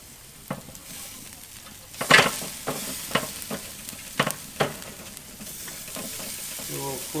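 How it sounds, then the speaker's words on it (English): Tri-tip sears over a Weber kettle fitted with an Onlyfire Santa Maria grill attachment, giving a steady outdoor sizzle broken by irregular metallic clanks and scrapes nearby; no one speaks. "I'm just going to sear it off for a while longer"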